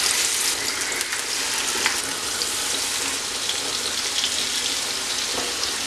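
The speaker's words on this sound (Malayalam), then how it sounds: "ഇനി നമ്മളിവിടെ മാരിനേറ്റ് ചെയ്ത് വെച്ചിരിക്കുന്ന ചെമ്മീൻ ഒന്ന് ഫ്രൈ ആക്കിയെടുക്കാം." Marinated prawns shallow-frying in oil in a pan give a steady, dense sizzle close up, continuous and even throughout, with no voices.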